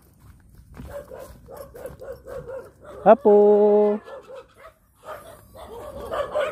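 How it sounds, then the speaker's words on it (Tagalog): Dogs bark in a rapid run of yips and woofs, followed by a sustained whine or howl, fairly close in a rural outdoor setting, with people talking around them. "Tumawag na yung aso."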